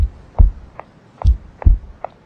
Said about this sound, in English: the little sounds of her little shoes with the heartbeat